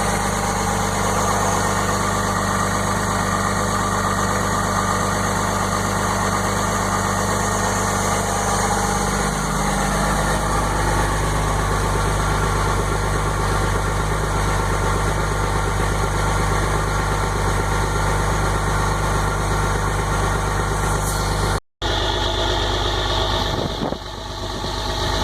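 A 2006 Dodge Cummins diesel idling loudly and steadily on a cold morning after a cold start, close-up continuous low rumble with clattering knock, the tone shifting slightly partway through, no talking.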